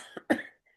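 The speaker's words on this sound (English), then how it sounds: "I'm just getting over a cough." A person who is getting over an illness gives a short, quiet cough, a couple of rough bursts close to the microphone, then a brief breath.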